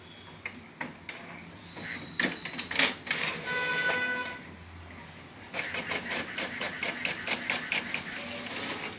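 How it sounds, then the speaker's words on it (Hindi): An HP Officejet inkjet printer prints a page, giving a run of mechanical clicks and whirring carriage passes, then a steady stream of rhythmic feed ticks near the end, close and moderately loud with no talk. "अब देखिए यहाँ पे प्रिंटिंग कमांड आ चुकी है"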